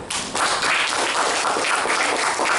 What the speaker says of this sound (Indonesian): Sepakat, tepuk tangan dulu